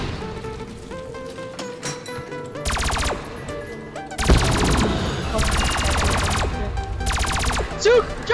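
Rapid bursts of M8 rifle fire in Call of Duty: World at War custom zombies on the Octagonal Ascension map, several loud sustained volleys separated by short pauses, with game sounds between them.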